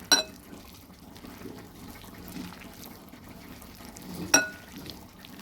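Capsicum pakora batter is worked with water by hand, giving soft, wet squelching close by, framed by two sharp clinks at the start and near the end, with no talking.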